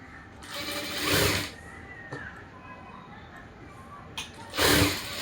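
A sewing machine runs in two short bursts while joining the cross piece of a blouse, with a faint click between the bursts.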